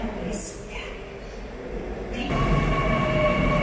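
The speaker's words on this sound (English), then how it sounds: "The subway is arriving." A Seoul subway train rumbles into a station, its low roar building and growing louder, with a steady high whine and hum near the end.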